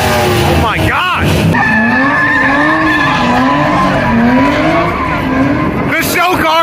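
Show cars at a Houston car meet in a warehouse lot skid and spin, tires squealing loudly in long wavering screeches over roaring engines, with crowd voices and shouts mixed in nearby.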